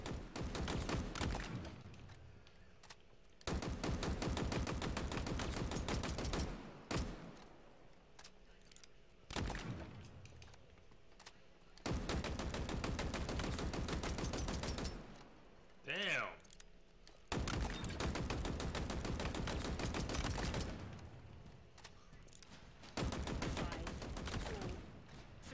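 Automatic weapons fire in Halo Infinite, loud sustained bursts of rapid shots broken by short pauses, with a few distinct single reports and voices talking in the gaps.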